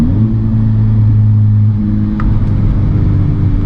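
A Honda Civic Type R with an aftermarket intercooler pulls hard in third gear, its engine droning loud and steady from inside the cabin as revs climb.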